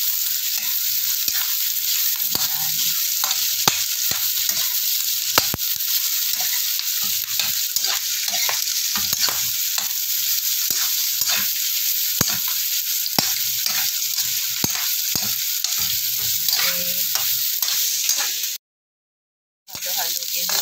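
Pork belly fries with onion and garlic in a pan, a steady, close sizzle and crackle with scattered stirring clicks, briefly cutting out near the end, and a voice speaking now and then.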